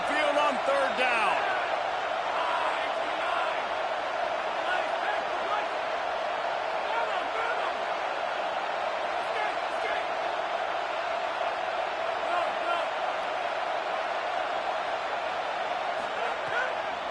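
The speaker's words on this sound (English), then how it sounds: "The Tide crowd rolling noise down onto Saban Field on third down." Stadium crowd noise from the NCAA 26 football video game, a steady, loud roar of a home crowd on third down at Saban Field, sustained and even.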